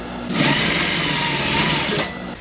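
A sewing machine stitches a blouse seam in one steady, continuous motor run of about two seconds, close and fairly loud, with no talking.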